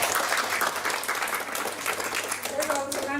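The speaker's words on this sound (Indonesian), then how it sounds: "Tepuk tangan." An audience at an Indonesian exhibition event breaks into a dense, continuous wash of applause. A voice begins speaking faintly near the end.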